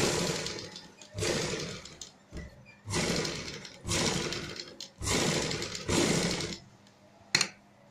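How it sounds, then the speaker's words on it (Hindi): A sewing machine stitching along a neckline edge, running in four or five bursts of about a second each separated by short pauses, close and fairly quiet, ending with a brief click. "एक किनारे पे सिलाई लगाएंगे हम।"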